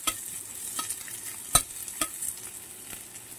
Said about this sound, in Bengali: পেঁয়াজগুলোকে আমি হাফ সেকেন্ডের মতন ভেজে নেব।